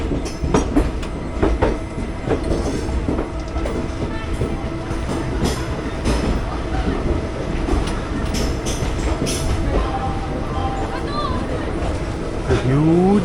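The 22640 Alappuzha–Chennai express at the Angadippuram station platform, a loud continuous rumble of rolling rail cars with rhythmic wheel clatter, under steady crowd noise and talk, with a few squeals near the end.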